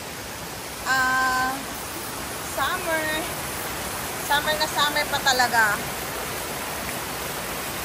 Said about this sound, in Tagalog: Punong-puno ng tubig yung stream na ito ngayon.